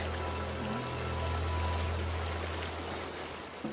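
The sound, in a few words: small waterfall stream flowing on a hike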